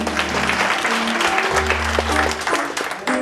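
A congregation at a graduation gathering in Kericho breaks into loud, dense clapping after a prayer, a sustained burst of many hands close by, with some tonal background sound beneath it.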